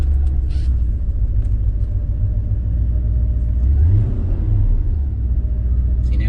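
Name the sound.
Porsche 928 petrol engine running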